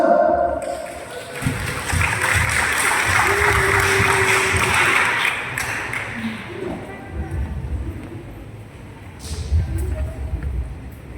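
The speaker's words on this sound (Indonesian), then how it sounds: "Tepuk tangan dulu" An audience at a school marching-formation training session claps loudly for about five seconds, then the applause fades as an instructor's voice carries on over faint room noise.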